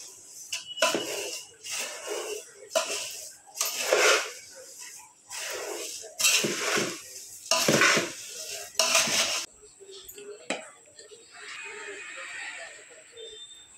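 Fried peanuts and coconut being mixed into poha chivda in a pan, with repeated bursts of scraping and rattling stirring at an uneven rhythm, close, ending in a quieter stretch.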